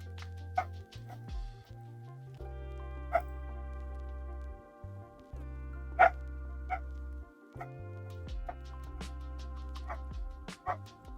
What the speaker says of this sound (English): the dog is barking on the TV